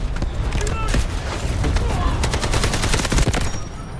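AKM rifle fire in the shooter game Delta Force: loud, close bursts of rapid automatic shots cracking continuously over heavy battlefield noise, with no pause between volleys.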